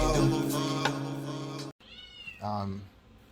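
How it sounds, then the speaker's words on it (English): A house cat meows in the background, drawn-out tonal cries under a person's speech, followed by a shorter second meow after a brief pause. "my cat is meowing in the background"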